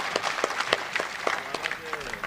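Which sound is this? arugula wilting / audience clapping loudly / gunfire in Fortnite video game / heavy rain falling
audience clapping loudly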